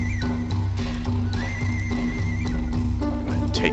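Horses of attacking horse nomads in the game King of Dragon Pass whinny and neigh loudly over a busy clatter of hooves, with a sustained whinny in the middle and more neighs near the end.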